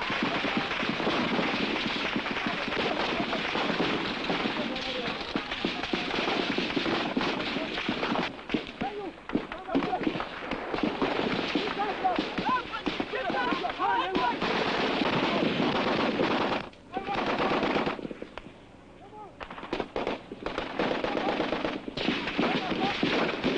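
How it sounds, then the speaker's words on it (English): Machine gun and rifle fire crackle in rapid, dense bursts as Biafran troops fire on enemy positions near Ikot Ekpene in the Nigerian Civil War, loud and continuous with brief lulls, and voices faintly underneath. "the Biafran troops fire blindly at enemy positions they can scarcely see."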